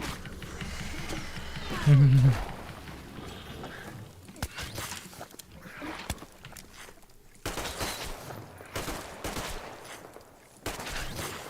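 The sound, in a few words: gunfire in the video game Metro Exodus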